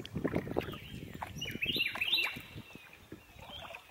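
A few short, high bird calls ring out faintly outdoors, two quick chirps standing out over a soft, scratchy background.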